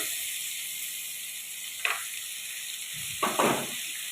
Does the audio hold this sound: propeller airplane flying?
no